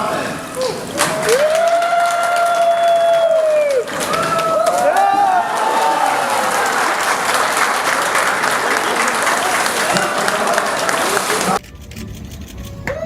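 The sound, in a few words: applause at an official opening after ribbon cutting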